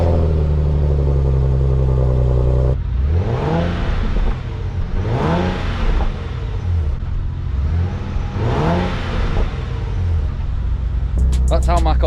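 A car with its stock exhaust, before high-flow sports cats are fitted, idles with a deep rumble, then revs hard three times in rising, falling sweeps, loud and close.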